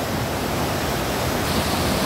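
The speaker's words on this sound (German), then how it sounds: "Viel Wasser läuft da" Waterfall at Hintersee with heavy flow, a steady, loud broadband roar of rushing water filling the whole stretch with no break.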